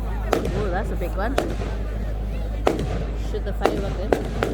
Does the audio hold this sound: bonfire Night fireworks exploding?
yes